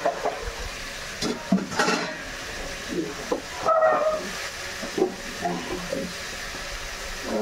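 Milk fries in a pan over full flame with a soft hiss and sizzle, interrupted by intermittent stirring and scraping of the pan.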